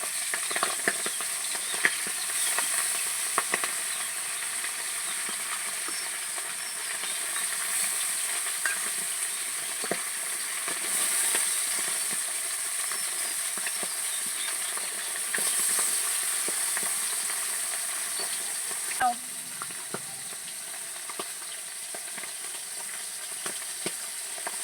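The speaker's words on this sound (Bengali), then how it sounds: "তেলটা গরম হয়ে গেছে, মাছগুলো এক এক করে ভেজে নেব।" Tilapia fish pieces fry in hot oil with a continuous, even sizzle and crackle that holds steady throughout, punctuated by occasional faint scrapes and clicks, with no voices.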